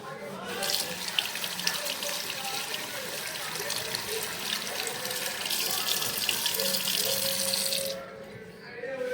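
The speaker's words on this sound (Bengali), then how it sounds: "হাতটা ধুয়ে নিই" Water runs steadily from a household tap while hands are washed under it, a close, even rush that cuts off abruptly near the end, with faint talk in the background.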